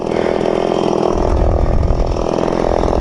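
A small chainsaw engine idles steadily after heavy cutting at a lake sawmill, a loud, continuous rough drone with a dense, even mechanical rattle and no voices.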